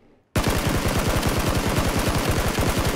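Video-game gunfire bursts in after a brief quiet start, a loud rapid automatic stream of shots that runs continuously to the end.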